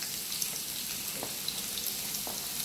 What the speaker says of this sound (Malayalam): അപ്പൊ ഈ സവാളയെ നമുക്ക് നന്നായിട്ടൊന്ന് വഴറ്റിയെടുക്കാം